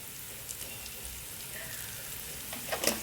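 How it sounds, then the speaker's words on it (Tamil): Onions frying in a pan for chicken biryani, a faint, steady sizzle with a few soft clicks near the end and no talking. "சீக்கிரமாக வெங்காயம் வந்து வதங்கிடுங்களாம்."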